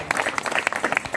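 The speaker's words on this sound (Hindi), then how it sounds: "इन्हां बच्चों वास्ते जोरदार तालियां बजाओ" Audience clapping loudly for children at a religious gathering, a brief burst of dense, close hand claps with no speech.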